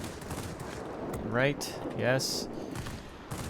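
Rapid bursts of 23mm and 37mm aircraft cannon fire in World of Warplanes crackle against a steady engine drone, with a brief spoken reply in between.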